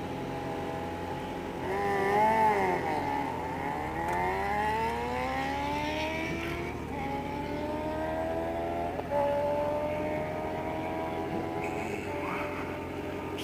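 A Kawasaki Ninja H2 motorcycle and a BMW S1000 racing at a dragstrip, engines rising in pitch through repeated gear shifts in a sustained, fairly loud roar.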